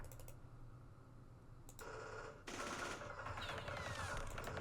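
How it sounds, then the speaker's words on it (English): Bursts of small-arms gunfire in the Campaign Series Vietnam strategy game: a few sharp clicks, then a sustained crackling volley that thickens and carries on to the end, moderately loud with no talking. "let's do some firing"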